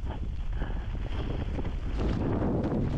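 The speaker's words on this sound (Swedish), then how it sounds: "Blåser det mycket nu så rullar ju tältet ut sig själv då." Strong wind buffets the microphone in a continuous roar that gusts louder toward the end.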